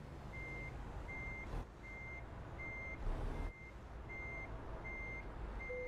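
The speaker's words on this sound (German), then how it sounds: "Und fahren hier rückwärts ran" Steady reversing beeps from a truck in Euro Truck Simulator 2, evenly spaced chirps repeating about every half second over a low engine rumble, with a brief louder whoosh partway through.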